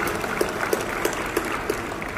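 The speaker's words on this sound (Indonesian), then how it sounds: "Tepuk tangan buat Papua." An audience at the opening of a national association meeting in a Nusa Dua, Bali convention hall claps in a steady, regular rhythm, the beats coming about three per second at moderate, somewhat distant loudness.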